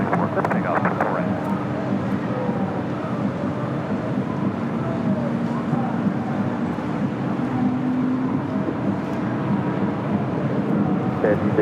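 A plane taking off at LAX airport produces a steady, broad engine roar that holds at an even level throughout, with faint, muffled voices in the background.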